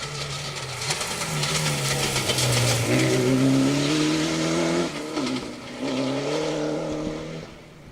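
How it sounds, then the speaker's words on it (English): An Evo rally car clips the inside bank and cocks two wheels on a Cambrian Rally stage in 2023, its engine revving hard and rising through the gears, loud and close with short dips between pulls. "Russ Thompson in the Evo, just clipping the bank on the inside, cocking the two wheels"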